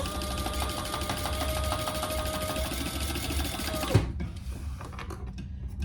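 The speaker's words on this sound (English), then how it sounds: "And I'm just going to baste my edges in place." A sewing machine basting the folded edges of a handbag runs in a steady, close, even whirring stitch for about four seconds, then stops with a small knock, leaving quiet handling noise.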